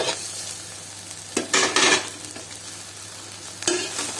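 Cooked rice mixed with roasted grated coconut is stirred in a pan, giving a faint sizzling bed broken by a few short scraping bursts of the spoon, with no voices.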